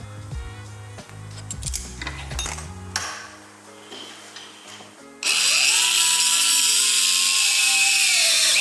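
A power tool shaves a bolt down into a spacer in a car workshop, with short bursts and clanks at first, then a loud, sustained high-pitched grinding whine that runs to the end.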